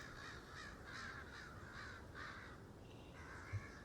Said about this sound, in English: apparently a bunch of crows got disturbed somewhere